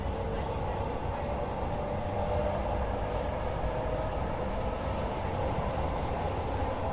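A Jakarta LRT train runs between stations on the Harjamukti to Dukuh Atas line, approaching Kuningan, with a steady loud rumble and rail roar from inside the car that continues throughout without a break.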